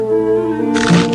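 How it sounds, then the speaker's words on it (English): A short burst of crisp crunching, loud and close, as a Triscuit whole wheat cracker is bitten after a moment of steady background tone. "That's the crunchy texture of a Triscuit."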